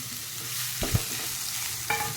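Whole spices, two cloves, black cardamom and a piece of cinnamon, roasting in a pan of ghee and oil, with a steady soft sizzle and a couple of brief scraping stirs. No one speaks.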